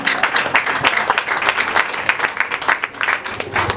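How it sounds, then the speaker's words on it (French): A congregation at a church wedding ceremony claps in a lively, uneven rhythm, many hands striking together in quick bursts that stay loud and close throughout. "Applaudis les Seigneur"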